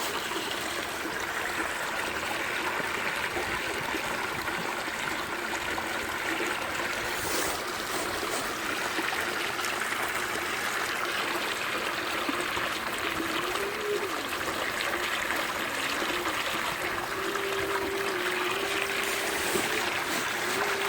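Water rushes and splashes steadily through a gold sluice with a dream mat, a continuous loud close-up flow with faint occasional clunks and a brief tonal whine underneath.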